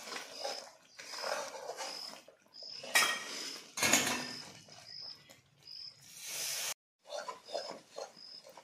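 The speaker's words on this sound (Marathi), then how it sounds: "मिश्रण छान हलवत राहायचं, छान जाडी येत नाही तोपर्यंत, खाली लागलं नाही पाहिजे।" Mysore pak mixture being stirred in a pan, heard as repeated clinks and scrapes of a metal utensil against cookware in irregular bursts, close and fairly faint, with no talking.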